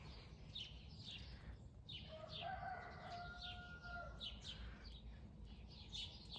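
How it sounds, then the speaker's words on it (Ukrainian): A rooster crows in the distance, one drawn-out call, while small birds chirp repeatedly around it in an outdoor morning setting. "також сусідські півники співають"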